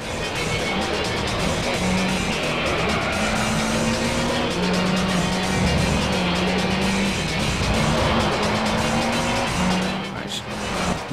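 Race cars in Gran Turismo 3 roar through a corner with engines droning and revving up and down, tires squealing, and other cars passing nearby, while someone talks over the racing.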